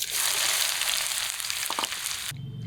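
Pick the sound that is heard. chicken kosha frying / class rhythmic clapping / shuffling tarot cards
chicken kosha frying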